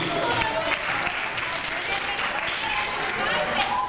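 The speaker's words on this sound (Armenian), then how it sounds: "բարձր ծափահարենք" Audience applauding in a school hall at a ninth-grade last-bell ceremony, a steady dense wash of many hands clapping from start to end, with crowd noise mixed in.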